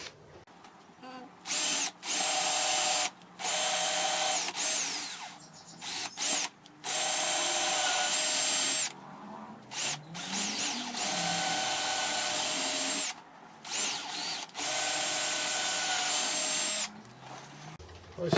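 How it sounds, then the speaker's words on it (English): A power drill drilling pilot holes whirs in repeated bursts of a few seconds each, loud and close, with brief pauses between holes. "Again, another set of pilot drill holes."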